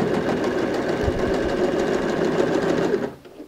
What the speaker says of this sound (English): now I'll guide the guide to the edge of my lining and sew